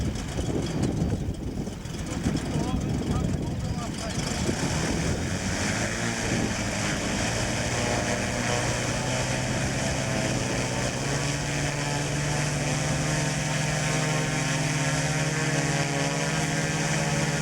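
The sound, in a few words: model aircraft flying at an airshow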